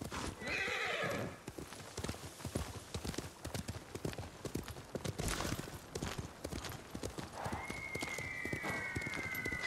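In the video game Ghost of Tsushima, a horse's hooves clip-clop in a rapid, steady gait, with a whinny at the start and another near the end, fairly quiet and unaccompanied by talk.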